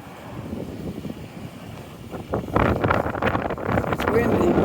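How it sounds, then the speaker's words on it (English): Gusty wind buffets a microphone on Young Street in a city's North End, rumbling low and uneven, then growing louder and rougher midway through, with no talking. "It's windy, there's no doubt about that."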